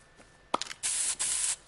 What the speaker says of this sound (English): Use them to paint a big pink X on the tree.